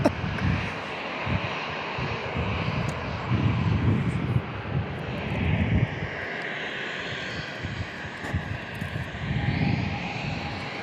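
A passenger airliner landing with flaps at San Diego International Airport roars steadily from a distance, its broad engine rumble rising and falling with wind buffeting throughout, and no speech.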